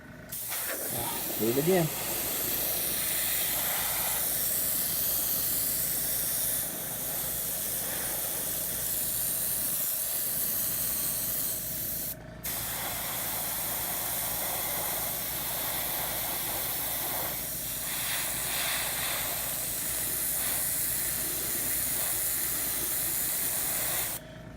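A spray can hisses in long continuous bursts while paint is feathered onto model wargaming terrain, close and steady, with a brief break partway and a short spoken remark near the start.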